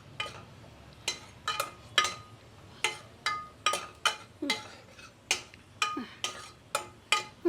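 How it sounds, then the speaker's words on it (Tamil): Millet being dry-roasted in a pan, a spoon scraping and stirring in a steady run of about a dozen sharp, close scrapes and clinks over a low hiss, with no talk. "ഒരു മിനിറ്റ് വറുത്തിട്ട് കാട്ടിത്തരാം"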